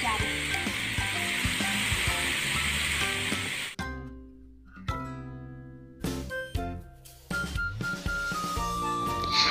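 Fried rice with soy sauce in a pan, sizzling loudly and then stirred in uneven bursts of scraping and hissing, with musical tones running underneath.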